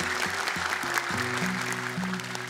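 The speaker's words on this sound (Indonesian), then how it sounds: "Boleh tepuk tangan sekali lagi untuk mereka berdua." On the Hafiz Indonesia 2025 Quran memorization show, studio applause for two contestants continues as a dense, even patter under a sustained musical jingle with shifting tones.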